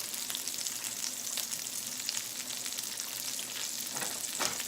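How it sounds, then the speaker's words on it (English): Steak and lobster sizzle and fry in a hot pan, a steady close crackling hiss that carries on without a break and with no talking. "You want to hear that sizzling?"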